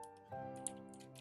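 Quick keystrokes on a computer keyboard click in a fast burst over a steady electronic tone with a low hum underneath.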